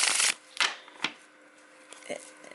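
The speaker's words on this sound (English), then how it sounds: "the deck is your typical Llewellyn cardstock, so it shuffles nicely" Llewellyn tarot cards in typical Llewellyn cardstock being shuffled, with three or four crisp riffling bursts, the first the longest, followed by softer handling noises. No one talks.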